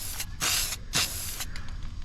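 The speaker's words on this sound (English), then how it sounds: "Let me spray some over." Metallic silver spray paint hisses from an aerosol can over a white car panel in two loud, close bursts of about a quarter second each, followed by a brief fainter puff and quiet.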